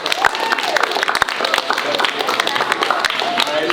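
Middle school students in a school gathering clap and cheer in a noisy, uneven burst, with scattered sharp claps and crowd chatter mixed through.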